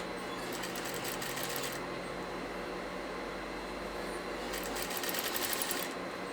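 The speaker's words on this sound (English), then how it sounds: "I hold the edge down with my fingers and I stitch" A sewing machine stitches along a fabric edge held flat by hand, its rapid needle chatter running in two bursts at the start and near the end over a constant motor hum, close and clear.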